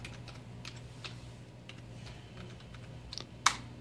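Faint, quick keystrokes patter on a computer keyboard in a quiet room over a low electrical hum, ending with one sharper, louder key press.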